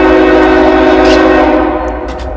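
A loud, close train rumbles past with steady heavy noise and a sustained horn tone, fading slightly toward the end.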